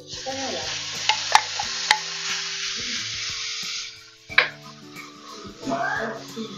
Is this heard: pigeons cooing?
no